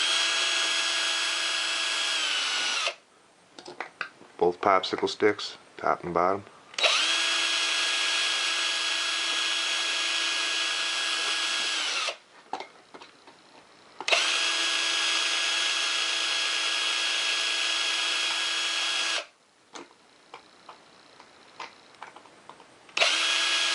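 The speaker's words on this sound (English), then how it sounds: "Let's go ahead and drill these out though." A power drill whines through wood and foam board in three long, steady runs, with a person speaking briefly in the pauses between them.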